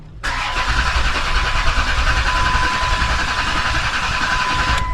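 A car engine cranks over continuously with a steady, loud, droning churn that runs unbroken to the end, as though it fails to catch, a symptom of a failing fuel pump; close and alone with no voices.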